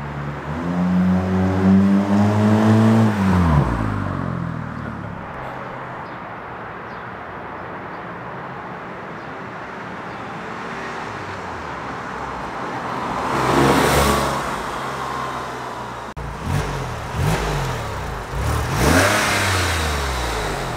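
A Porsche 996 with a muffler bypass revs hard at wide open throttle in first gear and passes close by, loud at the start. The engine note fades, then swells again as it sweeps past a second time.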